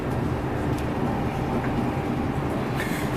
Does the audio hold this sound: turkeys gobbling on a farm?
no